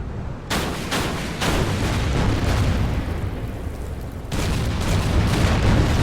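Booming artillery fire in the Order of Battle war game, several heavy blasts landing among a constant thick roar of battle noise, loud and close with no talking.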